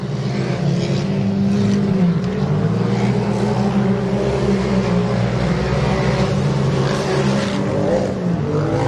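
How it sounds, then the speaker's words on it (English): Off-road race cars running a hilly dirt course, a loud continuous engine drone with rising and falling revs throughout, steady and fairly close with no pause. "We've got some fast cars out on course as we speak."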